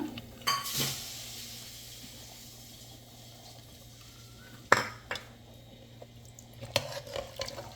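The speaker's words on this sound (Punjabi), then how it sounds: "ਹੁਣ ਆਪਾਂ ਤੜਕਾ ਜੀ ਪਾ ਦੇਣਾ ਹੈ ਚਣਿਆਂ ਦੇ ਵਿੱਚ" Tadka tempering poured into a pot of white chole, with clinks of metal utensils and pot scraping, a couple of sharp knocks, and a faint sizzle under sparse handling sounds; no voices.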